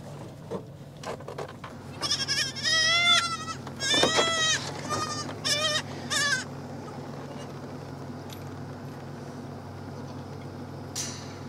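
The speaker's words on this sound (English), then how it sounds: "Look at all the little goats." Several goats, including young ones, bleat in quick wavering calls on a farm in spring, loud and close for a few seconds, then fall quiet over a low steady background hum.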